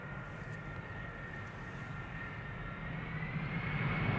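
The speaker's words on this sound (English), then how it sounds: "Delta Airlines flight 236 arriving from Tampa is landing now. A330-300, 17 years old," A 17-year-old Delta Airlines Airbus A330-300 landing at the end of a flight from Tampa gives a broad, steady engine roar that slowly swells louder over a few seconds, heard from a distance.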